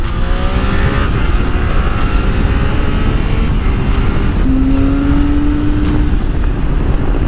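A Triumph Tiger 800 motorcycle engine with a Leo Vince aftermarket exhaust drones loudly and steadily nearby, its throaty exhaust note holding a constant rumble with a slight rise in pitch partway through.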